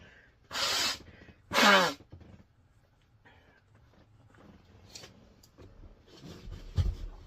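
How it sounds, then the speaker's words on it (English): Two loud, forceful nose blows in quick succession, close up, followed by quieter sniffles and rustling. "I'm gonna blow my nose."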